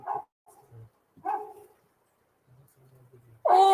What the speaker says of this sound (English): That's what the dogs are barking at.